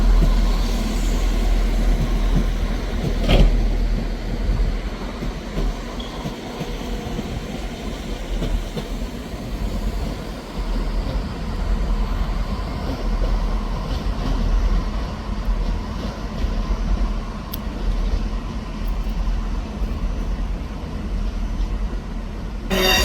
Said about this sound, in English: Departing out now is the 11:59 Scotrail service starting here at Edinburgh Waverley to Dundee